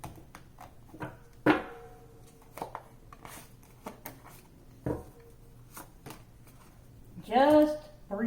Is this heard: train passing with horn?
no